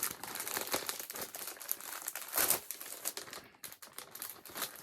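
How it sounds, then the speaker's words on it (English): Plastic packaging holding fabric and threads crinkles and crackles steadily for several seconds, close and fairly loud, in dense irregular bursts with no talking. "Lots of crinkling, guys."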